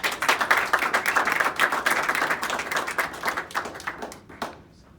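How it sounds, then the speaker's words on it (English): Applause at a town council meeting: a dense, steady round of clapping from a roomful of people that thins out and fades to a few scattered claps by the end. "I think we all can give everybody a round of applause for a job well done"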